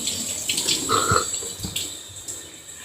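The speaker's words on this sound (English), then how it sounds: "I love that shower head. It's like so huge, it's like a rain shower." Indoor shower with an oversized rain-style head running during a hair wash, a steady spray with shifting splashes and spatter as water hits hair and body, close and moderately loud with no talking.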